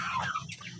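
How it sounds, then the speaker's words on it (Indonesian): A brief cluck from a native village chicken, close by and fairly loud, over a low background hum. "ayam calon indukan"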